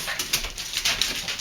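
Dogs whimper and whine in short, high-pitched bursts while being fed pepperoni, the cries repeating every few tenths of a second over a steady background hiss.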